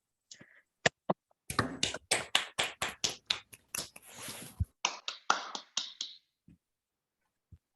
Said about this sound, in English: Let's please all unmute ourselves so that we can clap together.